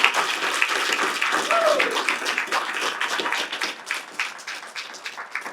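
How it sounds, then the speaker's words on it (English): Audience applause at a Franklin County Commissioners event launching a health and human services initiative, a dense, steady wash of clapping filling the room for several seconds with a few louder individual claps near the end. "Do me a favor and give her a round of applause for her work."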